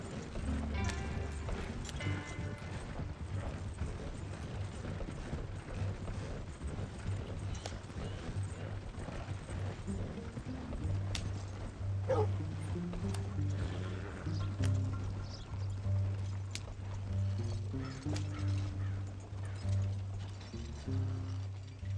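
Horse-drawn wagon in Red Dead, with steady clip-clop hooves and a low rumbling wagon rolling beneath, moderately quiet and continuous throughout, under faint background ambience.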